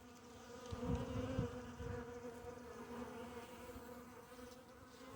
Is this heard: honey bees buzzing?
yes